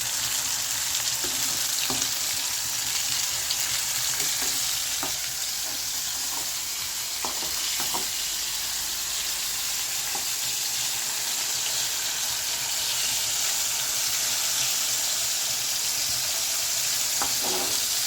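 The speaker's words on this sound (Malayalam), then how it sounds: "നല്ലതുപോലെ ആ മീൻ ഉണ്ടല്ലോ അതിൽ മുരിയണം" Pieces of fish frying hard in hot oil for a fish pickle, a dense continuous sizzle with scattered light crackles throughout, loud and close, with no voices.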